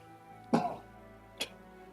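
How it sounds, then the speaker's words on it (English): Two short coughs, the first harsher and throaty, the second a quick lighter one a second later, close by in a quiet room. "Coughs up a bit of blood."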